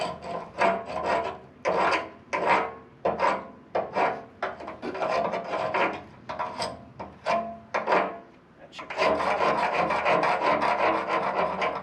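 Weld slag being chipped off steel from an old air compressor built into a tractor ballast box: a run of close, rhythmic scraping strokes, then a denser continuous scraping burst near the end.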